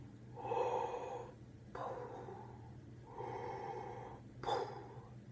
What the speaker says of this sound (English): then we hear that heavy breathing.